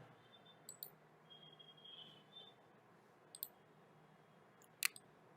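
Mouse clicks on a computer come as a few sharp, isolated clicks spaced apart, quiet and close over faint room hiss, with no talking.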